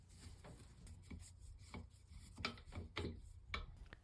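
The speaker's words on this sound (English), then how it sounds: "With one hand you'll need to hold the nut that is on the other side and unscrew with the screwdriver, counterclockwise." A screwdriver turns a plastic nut off a toilet seat bolt, making soft, quiet rubbing and ratcheting clicks in an irregular rhythm, close up with no talking.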